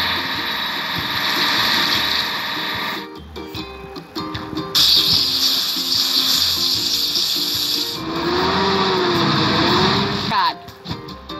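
A water truck in a children's truck-building video game hums along with a steady engine drone and hissing spray that drops out and returns, set against background music.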